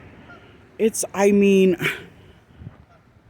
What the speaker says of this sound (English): Oh, look at these geese.